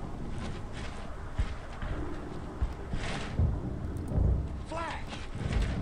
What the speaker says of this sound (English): Flash. Thunder.